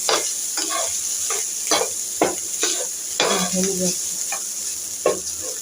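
Cold rice and onion being stirred and fried in a pan on a gas stove, with a steady sizzle under repeated scraping strokes of a spatula, close and moderately loud.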